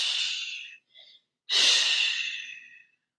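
A long, breathy exhale during a seated yoga twist in a morning flow, close and clear, broken by a short pause and followed by a second strong, drawn-out breath that slowly fades.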